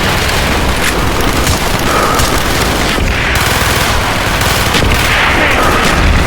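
Gunfire from the Call of Duty: Black Ops video game, a dense, continuous barrage of shots and blasts with no pause, loud and close throughout the clip.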